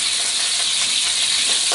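Nasi goreng fried rice sizzles loudly in a frying pan, a steady dense hiss without pause and with no voices over it.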